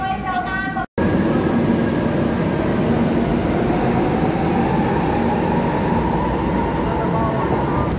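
A train hums steadily in a station after a brief silence, loud and continuous, with a voice announcement heard at the start.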